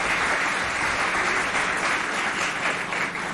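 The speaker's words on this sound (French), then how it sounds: "Si vous êtes content, applaudissez pour ce contenu" A school audience at a lycée performance applauds, a thick, continuous roar of clapping hands, loud and steady from start to finish, with no speech standing out.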